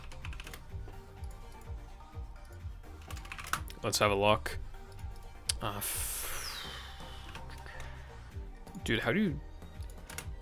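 Quick bursts of typing clatter on a computer keyboard as someone tries to spell the Pokémon name Rowlet, the key clicks sounding under a young man's chatter and a few louder vocal exclamations.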